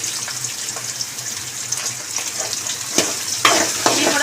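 Onions and green chillies dropped into a pan of frying eggplant for a coconut brinjal fry, a hissing sizzle with a sudden louder burst near the end, close and continuous.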